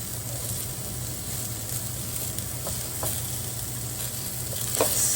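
Cashews and onions sizzle steadily in a hot pan for masala dosa, a constant close frying hiss with a few faint stirring knocks.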